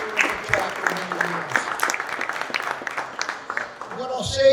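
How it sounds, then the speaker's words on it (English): Audience applause at a clean energy award ceremony honoring a community group leader, broadband clapping sustained through the whole stretch with voices mixed in, ending in a louder swell. "Please give her a round of applause."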